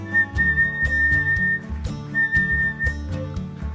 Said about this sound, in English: a really good way to check this is whistle tones